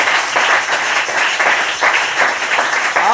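Church congregation applauding together during a French-language service, a steady dense wash of clapping with rhythmic surges, loud and continuous with no voices on top.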